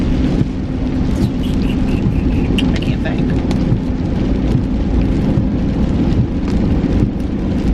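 Heavy rain drums in a dense, loud, unbroken wash, as heard from inside a car, and a person talks over it.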